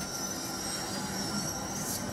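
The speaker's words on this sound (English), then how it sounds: "of course, they're plowing the field behind me now." A tractor plowing a field behind a metal building sends a constant low mechanical rumble and hiss, steady and fairly distant, with no pauses over the short stretch.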